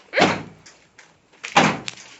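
A door in an abandoned building is pushed shut twice, each a sharp close thud with a scraping rattle that dies away, near and fairly loud, separated by a short quiet gap.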